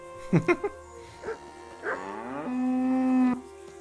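A cow moos in a video game, a drawn-out, tonal, lowing call close by that swells and then stops, preceded by a few short, sharp clicks and brief bleating sounds.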